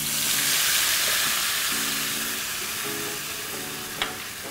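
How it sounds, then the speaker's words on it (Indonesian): Spice paste for Malang-style orem-orem sautéing in hot oil gives a steady, close hiss of sizzling, with light stirring scrapes and one brief clink near the end. "Oke, ini minyaknya sudah mulai panas, langsung aja kita tumis."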